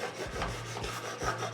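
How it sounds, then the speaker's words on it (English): Scraper tool scraping down the surface of a handmade bathroom storage box, a close, steady rasping rub with a few stronger strokes, heard alone. "scrape it down"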